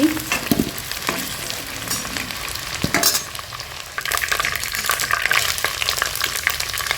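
Cucumber and potato pieces fry loudly in oil left over from frying fish, a dense continuous sizzle with scraping stirs and clinks from a utensil throughout.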